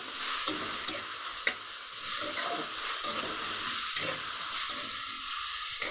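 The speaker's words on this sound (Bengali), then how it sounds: "চলুন গাজরটাকেও কিন্তু ভালো করে আমি ভেজে নেব।" Lightly salted carrots frying in a pan make a steady, close sizzle with occasional soft stirring clicks throughout, and no voices.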